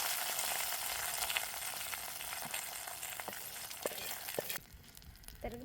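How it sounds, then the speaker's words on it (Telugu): Hot tempering with curry leaves poured into chicken buttermilk curry sizzles loudly and steadily at close range, with small pops and crackles, then the hiss drops off sharply near the end. "ముందుగా రెడీ చేసి పెట్టుకున్న చికెన్ మజ్జిగ పులుసు తిరగమాత పోస్తాను"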